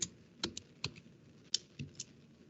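A computer keyboard clacks as a command is typed, with a handful of soft, irregular keystrokes close by in a quiet room.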